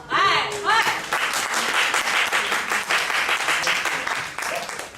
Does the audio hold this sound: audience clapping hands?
yes